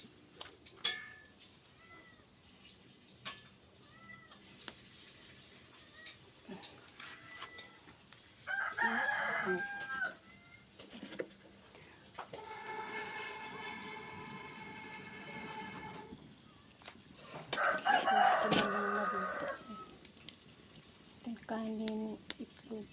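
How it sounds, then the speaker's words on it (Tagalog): Chickens and a rooster at a rural Philippine home, with several crowing and clucking calls spread across the scene, moderately near, alternating with quieter stretches of background ambience. "Ito yung manok na. Yung manok na pinakain ko kanina."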